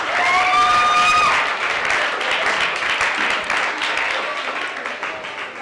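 Sustained applause and clapping from a school debate audience, loud at first with a tonal whistle-like sound over it, then continuing steadily and slowly easing.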